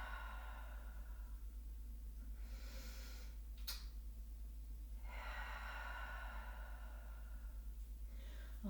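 Slow, deep yoga breathing in child's pose, two long airy breaths drawn in and let out close to the microphone, over a low steady hum, with no speech.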